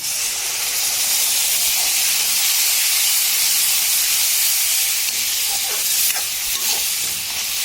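Ginger, garlic and dried chili paste sizzles in hot oil with browned onions, a steady loud hiss throughout, with faint stirring clicks toward the end.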